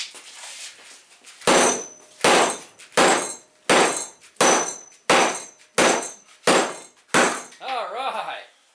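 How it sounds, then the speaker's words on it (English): A Guardian rescue and survival tool hammers through a steel chain on a fence, delivering about nine loud, sharp metallic whacks in a steady rhythm, each ringing briefly, followed by a voice at the end. "We have saved Timmy in about 10 whacks"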